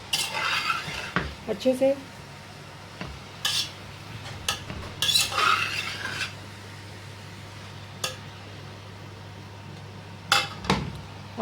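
A spoon clatters and scrapes against a large metal pot while chicken cheese pasta is stirred, giving sharp intermittent clinks and scraping bursts over a low steady kitchen hum, with a brief spoken word near the start.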